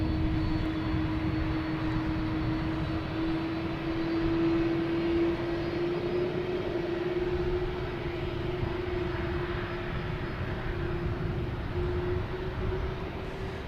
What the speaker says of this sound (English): And that Delta plane's 100 years old.